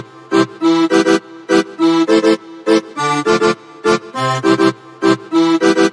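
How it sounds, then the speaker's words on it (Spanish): Bright, reedy synthesized accordion chords from an FL Studio remix pattern play in short rhythmic stabs, with a bouncy syncopated pattern and no voices. "En el patrón 5 tenemos el acordeón y suena así"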